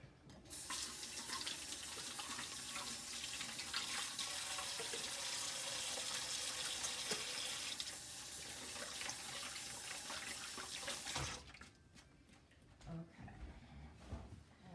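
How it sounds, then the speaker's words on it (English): Water from a kitchen sink tap runs steadily for about eleven seconds while hands are washed, a close, broadband rush that then cuts off, leaving a few faint clatters. "I'm gonna wash my hands real quick."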